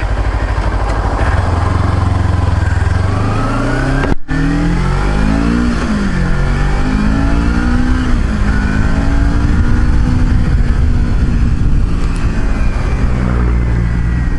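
Loud car engine revving and accelerating through rising and falling pitch sweeps, a brief gear-change dip, then a sustained strained drone from an overheating engine.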